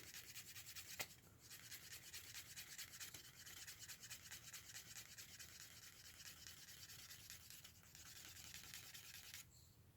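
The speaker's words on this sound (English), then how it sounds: "This is burnishing up nicely." An Armear solid wood slicker rubs briskly along a leather edge to burnish it, a faint, continuous close-up scraping friction with no talk.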